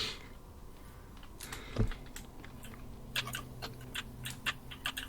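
Scattered clicks of typing on a computer keyboard, irregular and moderately close, with a low hum underneath and a soft thump early on.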